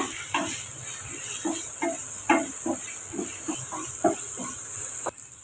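Tomato with a little salt sautéing in a pan for wheat-flour noodles, a steady sizzle and hiss with repeated soft scraping stirs, close and moderate.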